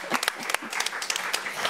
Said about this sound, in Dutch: dus jullie mogen rustig klappen